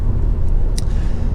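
A 1.8 i-VTEC Honda FR-V EX five-door drives along quiet Gloucestershire country roads, giving a steady low engine and road rumble with a brief faint hiss partway through.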